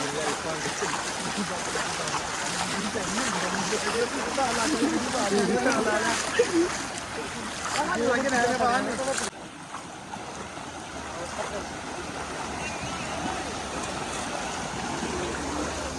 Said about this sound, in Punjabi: ਕੋਈ ਮੀਂਹ ਦਾ ਪਾਣੀ ਨਹੀਂ ਹੈਗਾ ਇਹ ਦਰਿਆ ਟੁੱਟਿਆ ਆ